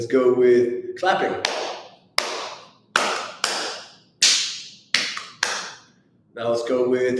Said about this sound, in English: Let's go with clapping.